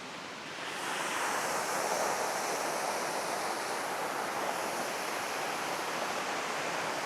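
Krangshuri Falls produces a steady, dense roar of falling water that fills the air evenly throughout, with a slight wind rush and no voices.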